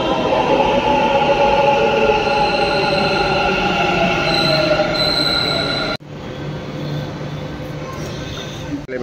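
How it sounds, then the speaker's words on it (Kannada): A Namma Metro train pulls into a station in Bengaluru, a loud sustained rumble with high-pitched wheel squeal and whine that cut off abruptly partway, leaving softer platform noise. "ಬರ್ತಾ ಇದೆ ನಮ್ಮ ಮೆಟ್ರೋ ಇವಾಗ"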